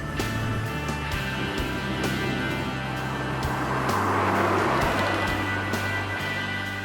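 Two cars running side by side at 100 mph on a test track, engines roaring in a steady, loud, sustained drone with shifting tones as they hold speed together.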